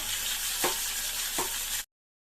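Tempering of green chillies, curry leaves and a pinch of asafoetida sizzles in a pan with the gas just turned off, a steady close hiss broken by two brief louder crackling bursts, then abrupt silence.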